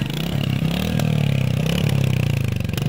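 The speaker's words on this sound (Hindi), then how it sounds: "भाई को स्टार्ट कर, इसका एग्जॉस्ट साउंड सुना देते हम लोग।" A Royal Enfield Hunter 350 single-cylinder motorcycle exhaust idles with a steady, thumping beat, close and loud, with a few brief revs and clatter.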